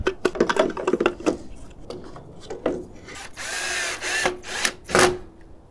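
A power drill with its clutch set low drives screws into plastic parking light fixtures on a 1984–2001 Jeep Cherokee XJ, with short whirring bursts, ratcheting clicks and scraping, nearby and moderately loud.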